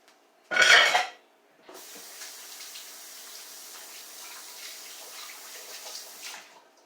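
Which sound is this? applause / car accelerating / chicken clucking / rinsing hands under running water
rinsing hands under running water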